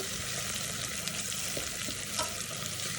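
Onion frying in a pan sizzles softly and evenly, a quiet unbroken hiss with occasional small pops and no speech.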